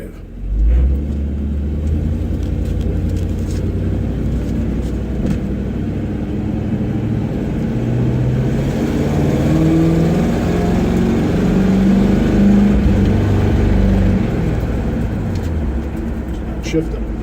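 A 1964 Ford F100 truck engine rumbles low and steady while the truck drives, holding an even, continuous drone throughout.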